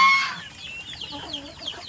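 A hen clucks in short, chattering bursts, starting with a loud squawk and then softer repeated clucks nearby, with faint farm background.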